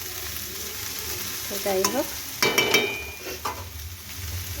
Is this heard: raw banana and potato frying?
yes